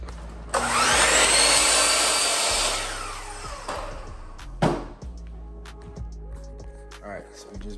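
A Bosch miter saw spins up with a loud rising whine and cuts through a workpiece for about two seconds, then winds down, followed by clunks and handling noises.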